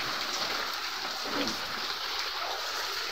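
Heavy rain from Typhoon Carina pours down in Metro Manila, a dense, steady hiss of falling water and splashing that stays continuous and fairly soft throughout.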